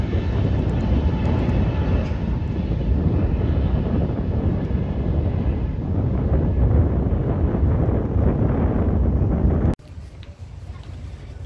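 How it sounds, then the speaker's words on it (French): Plane taking off from a small international airport, a loud, steady roar of engines and rushing wind heard from inside the cabin, cutting abruptly to a quieter background near the end. "C'est le décollage."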